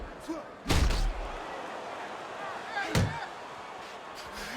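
Punches landing in the boxing video game Fight Night Champion: two heavy, close thuds a couple of seconds apart, with softer impacts between them, over a low crowd-like background.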